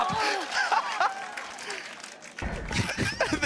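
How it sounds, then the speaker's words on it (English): Esports crowd at a KRU vs C9 knockout-round match in the Americas Stage 2, cheering and applauding in a broad noisy roar, with a fresh loud surge near the end; commentators talk over it. "The crowd went wild for it."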